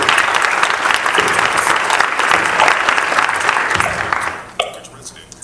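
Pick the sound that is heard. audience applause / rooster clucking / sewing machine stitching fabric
audience applause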